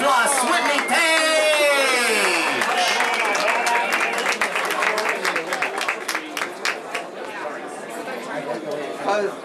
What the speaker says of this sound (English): make some noise for our new reigning Miss Continental Plus, Whitney, Paige!